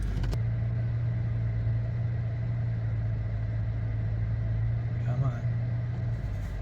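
A 3.6 Pentastar engine idles steadily with a constant low hum and broadband rumble, close and unbroken, with a brief faint squeak partway through.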